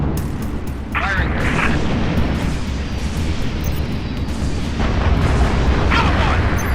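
Weapons fire during a Halo Reach space battle in the video game, a loud continuous rumbling barrage of booms and bursts with a dense low roar throughout, plus a few brief higher electronic chirps over it.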